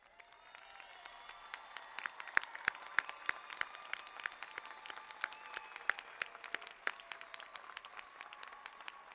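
Clapping rings out across a winter commencement ceremony as honors graduates rise, with many sharp, distinct claps in a broad, steady round of applause that carries through a large hall.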